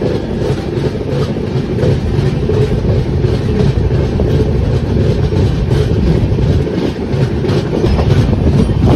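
Poorvottar Sampark Kranti Express, a long-distance passenger train with mostly AC coaches, runs along the tracks with a loud, steady rumble and continuous clickety-clack of wheels, no voices.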